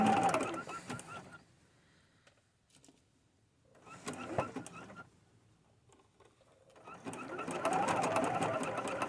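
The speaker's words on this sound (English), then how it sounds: "I really am sewing quite slowly" A sewing machine stitches fabric for a boho fairy skirt made from upcycled material, running slowly in three separate bursts with quiet pauses between, the last burst the longest and loudest.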